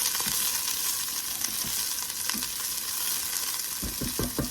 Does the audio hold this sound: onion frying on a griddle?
yes